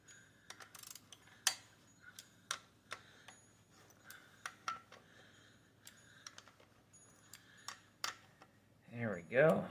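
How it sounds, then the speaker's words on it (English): Speed wrench ratcheting on a Honda D16A6 engine during a bottom end teardown, heard as a loose series of sharp separate clicks spread across the clip, closing with a short louder burst of rattling. "Speed wrench."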